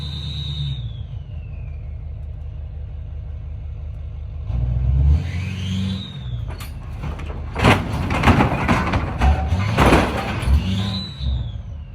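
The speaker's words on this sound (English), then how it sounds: "we're gonna go ahead and back it up as fast as possible, slam on the brakes" A truck with a trailer backs up hard, its engine revving and whining with air-brake hisses and rumbling thumps, ending in a sharp slam and clatter as the brakes are hit, loud and close.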